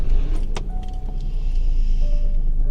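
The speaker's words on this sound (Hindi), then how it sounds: "गाड़ी स्टार्ट हो गई।" A car engine turns over and idles steadily nearby, with a brief jangle of keys at the start and a continuous low rumble.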